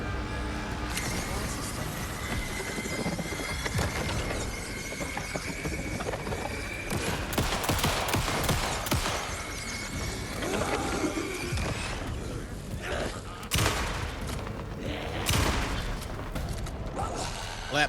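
Gunfire rattles through Alan Wake II during a tense lakehouse fight, with clusters of sharp shots and mechanical clicks and reloads over a dense, rumbling score, close and loud, and a voice speaking now and then.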